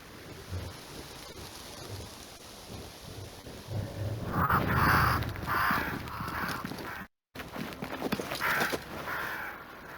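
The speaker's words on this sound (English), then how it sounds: "Crows. They flock to that great tree up there." Crows cawing in the video game Banishers: Ghosts of New Eden, several harsh calls rising over a rumbling, rainy storm ambience, fairly loud and close, with no talking.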